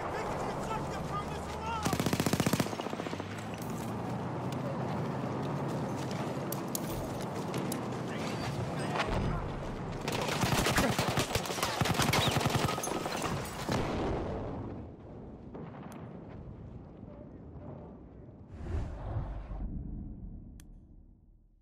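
Battlefield 1 gameplay with dense, loud bursts of machine gun fire and explosive booms across a chaotic battlefield mix, heaviest in the middle section, then easing into scattered later shots.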